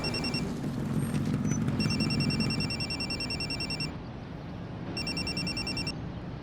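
A mobile phone ringtone chirps in repeated bursts, pausing between rings, fairly loud over a rumbling background of running and movement noise, with no talking.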